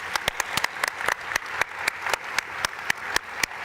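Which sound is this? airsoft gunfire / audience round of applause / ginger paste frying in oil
audience round of applause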